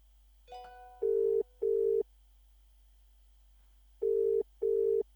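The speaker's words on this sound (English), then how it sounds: "It's ringing, as you hopefully can hear." A telephone ringing tone sounds on a phone line during a live game show call, a clear electronic double-burst repeated twice with a silent gap between, following a brief click of the line connecting.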